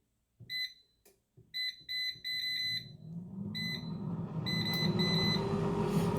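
An air fryer gives several high electronic beeps in short clusters as it is set to reheat, then its fan whooshes up into a steady rising whir.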